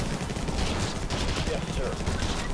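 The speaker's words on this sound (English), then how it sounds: "Throw some more rockets." Continuous dense gunfire and rocket blasts from troops fighting aliens in the strategy game Infested Planet, a steady clatter of rapid shots filling the whole stretch at even loudness.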